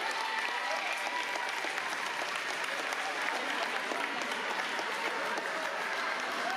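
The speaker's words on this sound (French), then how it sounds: "Donc on peut applaudir encore bien cette jolie prestation." Steady, dense applause from the audience at a 2024 French contest finale after a performance, even in level from start to finish, with no talk over it.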